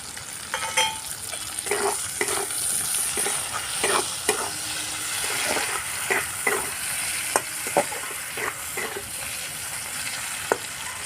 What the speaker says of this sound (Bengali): পেঁয়াজটা একটু ভাজা ভাজা হয়ে গেছে কেটে রাখা টমেটোটা দিয়ে দিচ্ছি